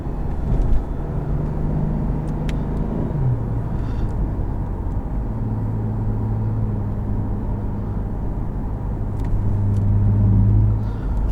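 A 2015 Lexus IS350 F Sport with an aftermarket intake and exhaust drones as it drives, heard from inside as a deep, steady engine rumble with gentle rises and dips in pitch and no talking.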